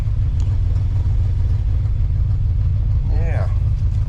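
A classic Mopar car engine idles steadily while warming up after the clutch is let out, a loud continuous low rumble that runs throughout, with a brief rising whine near the end.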